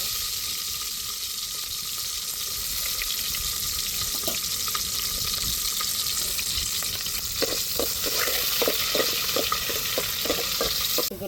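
Onions hit hot oil already crackling with mustard seeds while rasam is being made, giving a steady bright sizzle with sharp popping spatters that grow more frequent toward the end.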